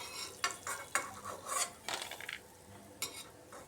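Urad dal bori dumplings frying in oil, with bursts of crackling sizzle and repeated scraping and clinking of a spatula against the pan, close and uneven, no talking.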